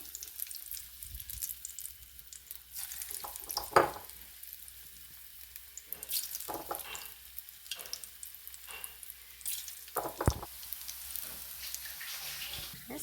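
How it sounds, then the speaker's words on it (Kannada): Tapioca bonda balls fry in hot oil, a quiet steady sizzle with scattered pops and a few louder clatters as the balls are dropped or stirred. "ಹೀಗೆ ಉಂಡೆ ಮಾಡಿ ಹಾಕೊಂಡು ಎಣ್ಣೆಗೆ"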